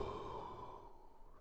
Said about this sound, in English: I still hear you breathing.